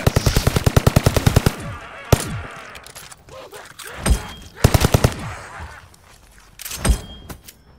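AKM assault rifle fire in Call of Duty, loud rapid automatic bursts: a long burst at the start, a single shot, a second burst mid-clip and a final shot, with game effects and a voice in between.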